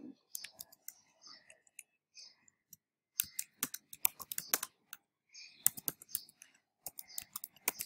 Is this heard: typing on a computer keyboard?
yes